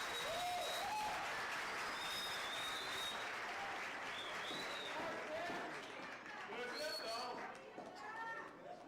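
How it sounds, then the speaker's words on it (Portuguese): A church congregation claps at a Sunday celebration service, steady dense applause filling the room while a voice speaks and chirpy sounds rise over it. "Essas palmas para Jesus"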